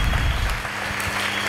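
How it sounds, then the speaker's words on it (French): A church congregation breaks into applause during a sermon, a dense, continuous clatter of many hands clapping at close range, sustained and fairly loud. "Est-ce que nous pouvons acclamer Dieu d'avoir donné la victoire à Donald Trump?"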